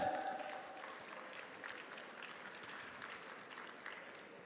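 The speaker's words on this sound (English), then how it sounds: "Clap yourself, teachers." Teachers at an engagement session clap together in a steady round of applause that is moderately quiet and fades slightly toward the end.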